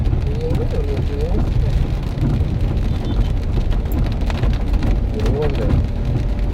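Heavy rain pours steadily with strong wind onto a street already flooding, a dense, loud, unbroken wash of noise throughout, with faint voices briefly audible beneath it.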